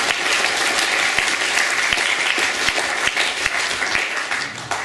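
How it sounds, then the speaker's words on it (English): A crowd at a team awards dinner applauds steadily and loudly throughout, dense clapping with a few sharper individual claps standing out near the front. "give yourself a round of applause"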